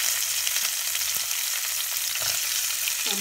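Chopped onions hiss and sizzle in hot oil with spluttered mustard seeds for a Tamil spinach poriyal, a steady close crackling frying sound broken by a few soft stirring scrapes, with no talking.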